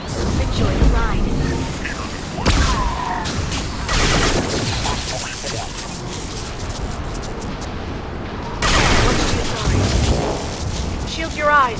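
Flashbang grenade and gunfire in Mass Effect 2 combat: repeated loud bursts of rapid shots and booming blasts, with sharp surges around the start, middle and end, mixed with voices.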